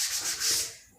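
A brief, close rubbing swish as writing is erased from a maths lesson board, with steady rough friction for under a second that fades toward the end.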